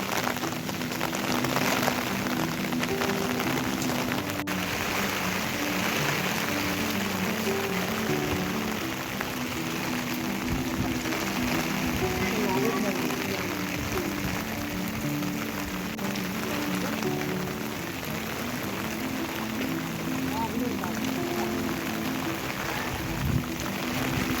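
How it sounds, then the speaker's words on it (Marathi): Heavy rain pours steadily on farmland, a dense, even patter filling the whole stretch without pause. "हे बघा पाऊस पण भरपूर आहे. पाऊस थांबत नाही आता."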